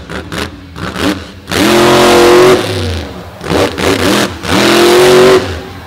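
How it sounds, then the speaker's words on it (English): A monster truck engine roars at a beach wheelie competition, loud and close, with two long revving surges separated by brief lulls and sharp blips. "Up next, another Virginian, Brandon Mudd, with the John Ulick horsepower in the back of Buckshot"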